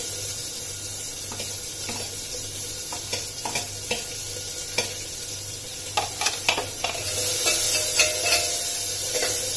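Chopped onion frying in oil with cumin seeds for a chana dal and ridge gourd dish, a steady sizzle broken by scattered stirring scrapes, growing louder and hotter toward the end, with a low hum throughout.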